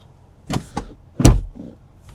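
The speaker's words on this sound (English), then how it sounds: "Close the door, pull it back down" A door on a 2026 Nissan Patrol SUV is pulled shut, with a couple of light clicks and then one solid thud up close, followed by a faint rattle.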